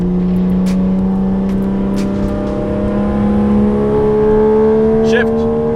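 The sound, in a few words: Toyota Soarer 1JZ engine revving on a dyno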